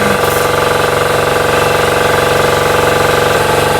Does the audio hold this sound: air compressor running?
yes